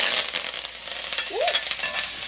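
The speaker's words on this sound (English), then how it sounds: "I'm just gonna stir it around like this" Onion, scallion, thyme, country pepper and pimento seeds stirred through hot burned-out curry oil, a steady close sizzle with scraping stirs and a brief squeak partway through, no voices.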